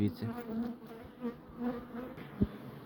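Bees hum steadily inside a hive packed full of them, a soft, close drone with slight swells and one short louder buzz.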